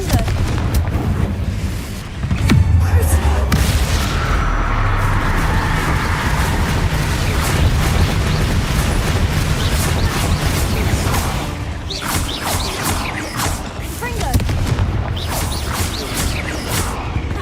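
Confringo fire-blast spell in Hogwarts Legacy: a heavy booming burst and crash, followed by a long roaring rumble, with more sharp magical impacts later.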